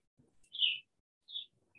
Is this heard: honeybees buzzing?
no